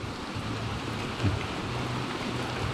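Steady hissing rain falls continuously at Tad Yuang waterfall in Champasak, Laos, even and broadband, with a low rumble underneath and no voices.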